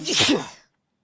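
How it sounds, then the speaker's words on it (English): A man lets out one loud, close sneeze, a single breathy burst that ends abruptly and is followed by silence. "he just sneezed"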